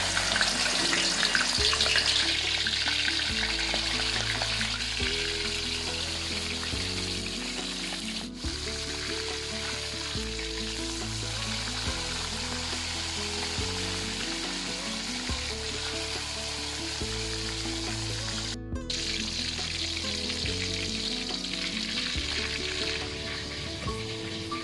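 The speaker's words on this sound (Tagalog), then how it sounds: "So, iprito lang natin yung isda." Tuna steak frying in a pan, a continuous loud sizzle with a rhythmic low thumping pattern running underneath throughout, close and steady with no speech.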